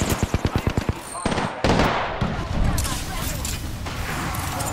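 Shotgun blasts in the Apex Legends battle royale game: a fast run of about ten sharp, evenly spaced shots opens the clip, followed by a heavy boom and continuous gunfire and game chaos.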